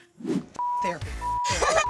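A censor bleep covering a name cuts in as a steady pure tone, once briefly and then again a bit longer, in the middle of close conversational talk on a reality TV show.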